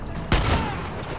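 A double-barrel 16-gauge shotgun fires once in the video game Far Cry 6, a single sharp, loud blast that decays quickly into a faint tail.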